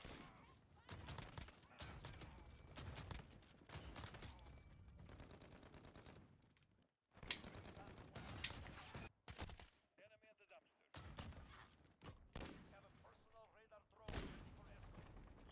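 Origin 12 shotgun blasts in a multiplayer shooter round, sharp loud bursts fired in quick clusters with pauses between, mixed with other gunfire and occasional talk.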